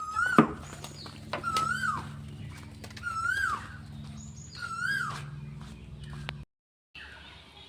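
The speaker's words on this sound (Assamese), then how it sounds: "চৰাইজনীয়ে খেৰৰ মেজিটোতে বাহা বনাই আছে" A bird nesting in a thatched hut repeats short rising whistled calls at intervals, fairly close, over a low steady hum, then briefly falls silent near the end.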